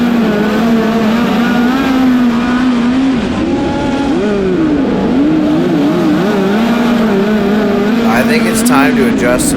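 Sprint car engine at full song during the A-main at the Chili Bowl indoor dirt race, a loud continuous drone that rises and falls as the throttle is worked through the turns, with a voice talking over it.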